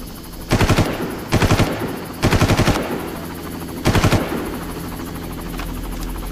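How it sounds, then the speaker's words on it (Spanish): Helicopter under machine-gun fire in the video game Far Cry: four loud bursts of rapid automatic gunfire, each about half a second, separated by pauses, over a steady low rotor drone that continues to the end. "Helicóptero, helicóptero."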